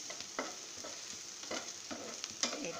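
Food frying in a pan for a gourd and fish curry (lau macher jhol), a soft continuous sizzle with a few distinct stirring scrapes at irregular intervals, heard alone.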